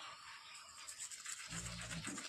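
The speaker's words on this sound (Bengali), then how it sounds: "তারপরে ব্রাশ।" A toothbrush scrubs teeth close by in quiet surroundings, a faint, steady rasping rub that picks up a little in the second half.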